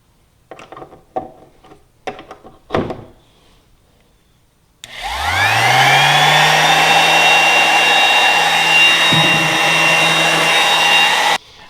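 Electric sander switched on after some handling clicks, spinning up and running loud and steady for several seconds, then cutting off.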